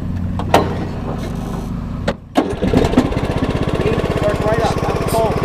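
A small tractor engine cranks briefly, catches, and settles into a loud, rapid putter, with a couple of clunks before it fires.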